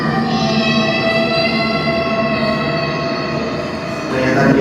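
A train passes close by at a railway crossing, a loud sustained metallic rumble with tonal wheel and horn-like overtones that holds steady and swells near the end.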